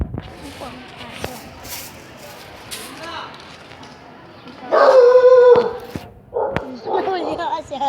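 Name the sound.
dog howling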